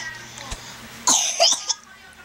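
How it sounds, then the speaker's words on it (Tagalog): A young child coughs a few times in quick succession, close and fairly loud against a quiet room, with a brief throat-clearing sound. "May ubo daw, may ubo."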